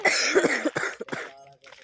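A series of harsh, close coughs in quick succession, trailing off into quieter breathy sounds.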